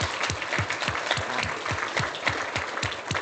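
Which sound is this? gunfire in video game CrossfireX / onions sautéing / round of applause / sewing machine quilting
round of applause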